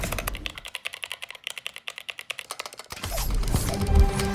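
Rapid, even clacking keystrokes on a keyboard fitted with Gateron yellow optical switches, loud and close for about three seconds, then broken off by a burst of other noise.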